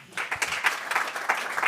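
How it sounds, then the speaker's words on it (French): A conference audience applauds the guests on a panel about European biotech, a short burst of close, fairly loud clapping with rapid individual claps. "On peut les applaudir."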